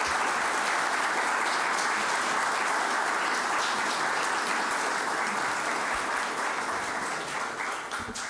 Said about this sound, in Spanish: que pedir un aplauso grande, sincero, para ambos ponentes